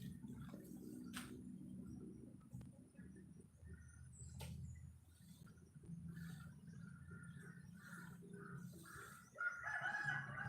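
Chickens cluck and a rooster crows on a rural farm, the bird calls scattered over a low steady outdoor rumble, moderately distant and faint, with a louder burst near the end.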